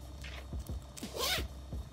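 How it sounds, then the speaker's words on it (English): A zipper along the side seam of a shirt is worked in a few short, close zips, quiet quick rasps with a longer pull near the middle, with no speech. "It like zips up on the sides."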